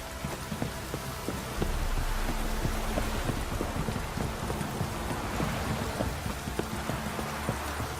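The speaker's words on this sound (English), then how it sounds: "This downpour's a bastard," Steady, dense hiss of heavy rain pouring down in the video game The Witcher 3: Wild Hunt, with scattered sharper patters and drips throughout; constant and loud, no voices.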